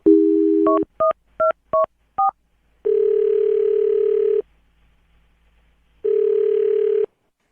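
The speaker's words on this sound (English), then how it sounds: "I'm dialing the phone number." A telephone number is dialed by hand: a steady dial tone gives way to five quick evenly spaced touch-tone beeps, followed by two long ringback tones separated by a silent gap, with no voices present.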